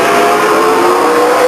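Late model stock race cars roaring around Stockton 99 Speedway, a loud sustained engine drone from a car drag racing off turn 4, steady and close throughout.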